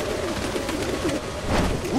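Pigeons coo softly in a video game, Like a Dragon: Infinite Wealth, giving a couple of brief low warbling calls over a dense background bed of game sound.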